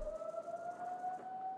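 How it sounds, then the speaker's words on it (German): A steady, wailing alarm siren rises over a game world in Dying Light 2, holding two sustained tones for the whole moment, fairly loud and continuous with no voices. "Da geht die Sirene los."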